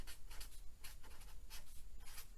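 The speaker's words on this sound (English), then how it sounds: "Let's write that down." Writing strokes from a pen or marker on a board during a math lesson on reciprocals, a steady series of scratchy bursts in short rhythmic groups, fairly quiet and with no talking.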